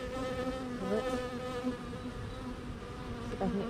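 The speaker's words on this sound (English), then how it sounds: "close this up without crushing any bees" Honeybees swarm around an open hive frame during a fall mite check, producing a dense, continuous close-up buzz with wavering pitch that holds steady throughout.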